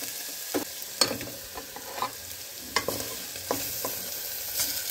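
Mutton fries in a pan with ginger-garlic paste for a mutton gongura curry. A steady sizzle runs underneath close, scraping stirs and occasional clinks, with no talking.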